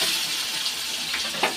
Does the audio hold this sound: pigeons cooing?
no